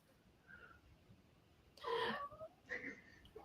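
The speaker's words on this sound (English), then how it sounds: "I can hear her. Hi. You chatty kitty?" A cat gives a faint meow followed by two louder, chirpy meows, close by in a quiet room.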